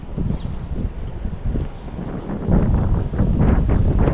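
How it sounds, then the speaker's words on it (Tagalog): Strong gusty wind buffets an umbrella outdoors, a steady roaring rumble with flapping surges that grows louder and more forceful in the second half, with no talking. "Grabe po, lakas ng hangin."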